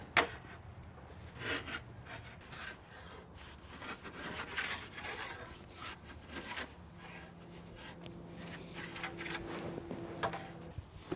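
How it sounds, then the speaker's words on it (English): A rasp works Osage orange wood on a recurve selfbow, giving repeated scraping strokes that come close and fairly steady, rising and falling in short bursts for the whole stretch. "you can use this, the round part of this rasp here"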